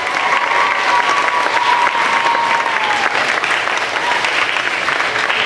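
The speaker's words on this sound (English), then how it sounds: "let's give her a round of applause." An audience at an elementary school play applauds steadily and loudly, a dense, sustained clapping from a crowd close by, with faint voices mixed into the applause.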